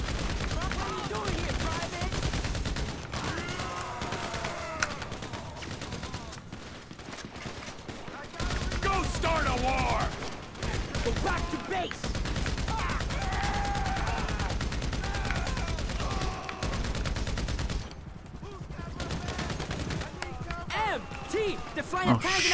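Rapid bursts of gunfire from a gun in the video game GTA V, repeated volleys and single shots mixed under loud, excited talk from players throughout.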